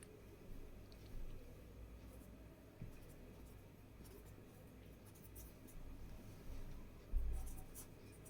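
A pen scratches on paper while a fifth-grade math word problem is worked out by hand, producing faint, close, irregular scribbling strokes under a quiet room background.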